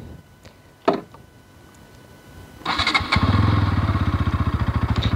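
A 2025 Bajaj Pulsar NS 200 motorcycle cranks and fires up after a couple of faint clicks and knocks, then settles into a loud, close, steady idle around 1000 RPM with a rapid even thumping pulse.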